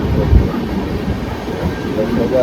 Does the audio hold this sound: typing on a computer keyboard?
no